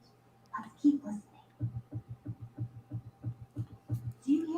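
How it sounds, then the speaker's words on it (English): A faint, steady heartbeat thumps about a dozen times in an even rhythm, with brief soft voice sounds before and after. "Do you hear a heartbeat?"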